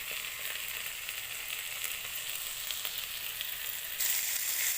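Chopped green chilli goes into a pan of fish and spices already frying, giving a constant bright sizzle throughout that swells louder near the end.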